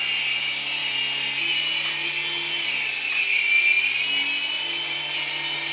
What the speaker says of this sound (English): So just give it a little bit of throttle for it to start up